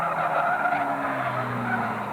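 At a Fleet Old Boys non-contact race meeting, racing cars including a Plymouth Acclaim make a steady, loud skidding and tire-squealing roar mixed with engine drone on the track, with no voices.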